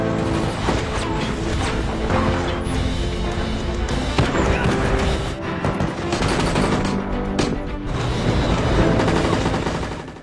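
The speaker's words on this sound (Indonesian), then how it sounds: "Terjadilah baku tembak di sana." Gunfire rages nonstop through a shootout in a zombie-apocalypse TV drama, with loud, dense rapid bursts and overlapping shots filling the whole stretch alongside other busy soundtrack noise.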